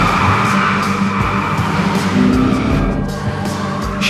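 Ford Focus Fastback tires squeal and skid continuously under a busy engine roar, loud and close throughout.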